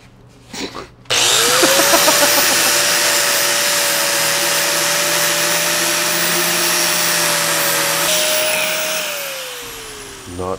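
A power tool grinds against an aluminum intake manifold, starting abruptly after a brief noise and holding a loud, steady whine with a rising then falling pitch for about nine seconds before spinning down.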